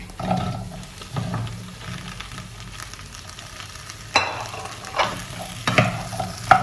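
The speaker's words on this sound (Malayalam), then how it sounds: "ഇനി അതിലേക്ക് ഈ വെണ്ടയ്ക്ക ഇട്ടിട്ട് ഒന്ന് വഴറ്റിയെടുക്കണം" Okra sautéing in coconut oil in a pan, with a spatula stirring and scraping through a low, steady sizzle. The strokes come close and grow sharper and busier toward the end, and no one speaks.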